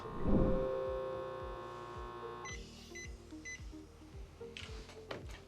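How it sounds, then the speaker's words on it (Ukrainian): A UV vacuum box for applying hydrogel film to glass pumps out air and switches on its UV lamps: a droning, pulsing motor hum that shifts character partway through, with short beeps near the end. "Бокс викачав все повітря і включає ультрафіолетові лампи на 110 секунд"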